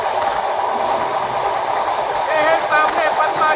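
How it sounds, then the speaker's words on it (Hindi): Ruposhi Bangla Express passenger train crossing the Padma rail bridge, a steady loud rumble of rolling wagons with faint rhythmic clatter and brief squeals near the end, heard from on board. "ये पूरा पद्मा ब्रिज के ऊपर से जा रहा है अभी ट्रेन"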